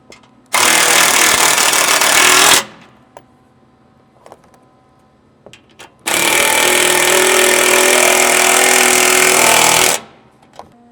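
A power tool with a 17mm socket tightens skid plate bolts on a Toyota Tacoma, running in two loud, sustained bursts of about two and three and a half seconds with a quiet pause between.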